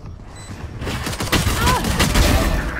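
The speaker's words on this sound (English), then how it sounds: "Placing swarm grenade" Killjoy's swarm grenade goes off in Valorant during a competitive match, producing a loud, rapid burst of crackling pops and booms that rolls on continuously under other game noise.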